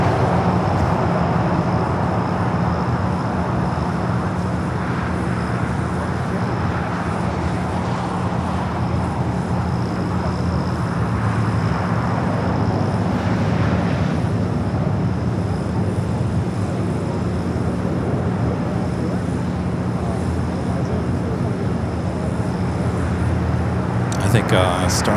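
Jet airliner rolling for takeoff on runway 25 right at Los Angeles International Airport, a continuous loud engine roar held steady for the whole stretch, with some distant background noise.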